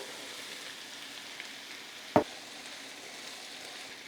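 Fava beans cooking in a pan with diced tomatoes and onions give a soft, steady sizzle throughout, broken once midway by a single sharp clink of a utensil against the pan.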